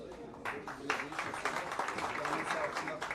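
Clapping from an audience greeting local election candidates at a federation gathering rises after a brief quiet start and holds as a dense, even patter, with voices talking over it.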